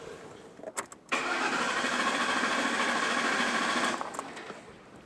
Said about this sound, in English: I'm going to turn it over about 4 puffs